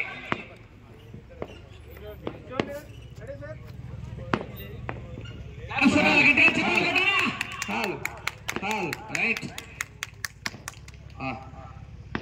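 A crowd at a bull race prize announcement bursts into applause, a dense burst of clapping that swells midway and then thins into scattered claps, with someone talking over the loudspeaker before and during it.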